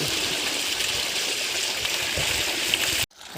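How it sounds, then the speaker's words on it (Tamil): Water from a 350-foot borewell, pumped by a 3000W BLDC motor through a 50mm pipe, gushes steadily into a two-foot irrigation channel, a loud continuous rushing that cuts off abruptly near the end. "வாய்க்கால் நல்லா ரெண்டடி வாய்க்கால் ஃபுல்லாக தண்ணி போய் பாஞ்சிட்ருக்கு நல்ல ப்ரெஷர் வந்துட்டுருக்கு"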